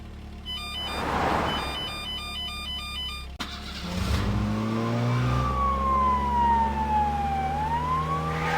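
A toy-like car with emergency lighting sounds a beeping electronic tone pattern, then an engine start and a wailing siren that rises and falls, loud and close.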